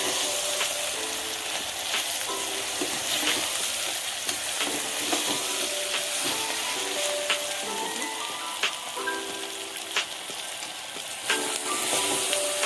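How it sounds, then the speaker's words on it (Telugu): Mint, coriander, soy chunks and split moong dal fry in a hot pan, crackling in a steady sizzle with occasional scraping and stirring clicks, close and continuous throughout. "పుదీనా, కొత్తిమీర, మిల్ మేకర్ ఇవన్నీ కూడా వేసుకుని ఒకసారి ఇలా వేపుకుందాం."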